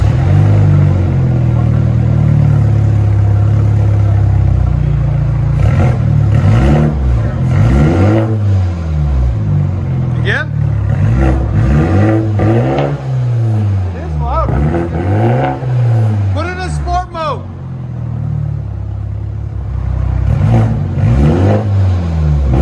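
A Toyota Supra GR with a 3.0L inline-six and aftermarket exhaust revs repeatedly, loud close rising and falling blips over a rumbling idle, with a voice talking briefly.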